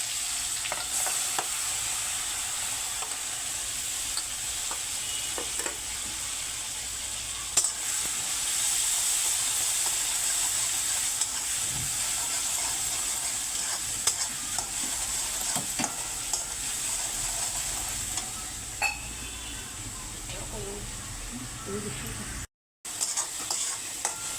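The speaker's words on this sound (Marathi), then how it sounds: "त्याचा मसाला छान परतून द्यायचा" Ground masala with curry leaves sautés in a pan for a Maharashtrian vada pav potato filling, a steady close sizzle and hiss with intermittent scraping stir strokes and occasional clinks throughout.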